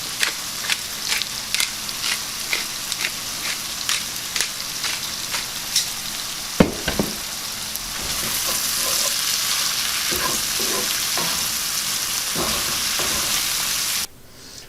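New York strip steaks sizzle and spit in a hot cast iron pan, with scattered pops and crackles at first, then building into a dense, steady frying hiss that cuts off abruptly near the end.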